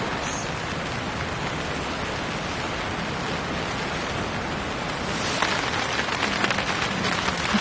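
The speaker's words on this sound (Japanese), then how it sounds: "かなり雨が強くなってきました。" Heavy rain drums steadily on a camping tent, a dense, constant hiss of drops that grows louder and harsher partway through, with no voices.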